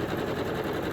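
A sewing machine runs steadily, stitching quilt pieces together with a continuous dense mechanical whir and no breaks across the short stretch.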